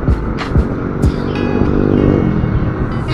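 Honda CB150X touring adventure motorcycle on a test ride, its engine giving a loud, close, continuous drone with a steady throbbing rumble throughout.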